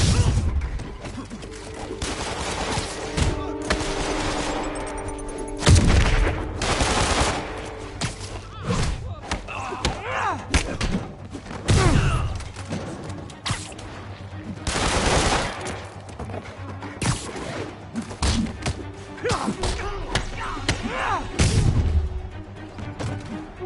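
Enemy gunfire in Marvel's Spider-Man: repeated bursts of shots and loud bangs that come and go throughout, mixed with crashes and impacts and some voices.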